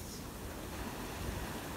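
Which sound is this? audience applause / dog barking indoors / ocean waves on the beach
ocean waves on the beach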